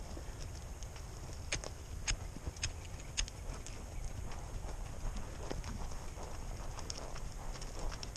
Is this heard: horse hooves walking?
yes